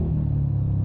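A Yamaha NMAX 232cc scooter engine during a night ride produces a steady, low, close rumble that stays even through the whole short moment.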